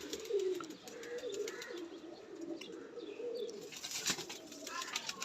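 Golden Teddy pigeon squabs coo softly and repeatedly, a low throaty burbling close by, with a few light chirps and a brief flutter of wings.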